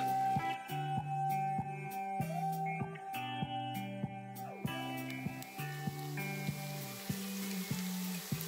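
Frozen smoked bacon lardons browning in a pan give off a steady, close sizzle that continues throughout, with faint tonal sounds in the background and no talking.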